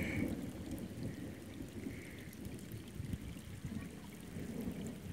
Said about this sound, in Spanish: miren cómo caen las gotitas. Toda la tormenta allá en el fondo